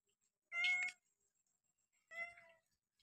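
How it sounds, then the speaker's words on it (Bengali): Cat meowing beside a cook preparing fish, two clear, close meows separated by a short silence, the first longer and louder than the second. "পুষি আমার মাছ খাওয়ার জন্য পাশে বসে আছে"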